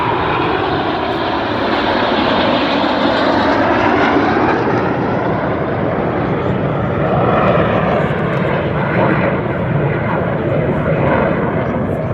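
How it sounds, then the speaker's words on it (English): A formation of nine display aircraft flying over Duxford at an air show gives a loud, continuous engine roar that swells and fades slightly as the planes pass, with a commentator talking over it. "So far we've seen all 9 aircraft in graceful formation shapes across the sky."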